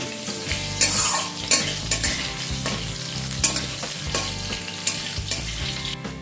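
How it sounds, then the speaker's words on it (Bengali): Diced potatoes stir-fried in hot oil with tempered spices in a pan, a close steady sizzle broken by repeated scraping and stirring strokes of a spatula, with occasional light metallic clinks. "আলুটা অল্প একটুখানি নাড়াচাড়া করে নেব"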